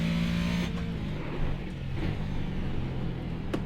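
A race car engine in a racing video game, an MP4-30 on the Nürburgring Nordschleife, roars steadily with shifting pitch and a couple of sharp gear-change breaks, close and loud with no talk.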